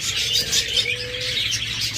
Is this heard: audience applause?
no